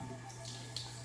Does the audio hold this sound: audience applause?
no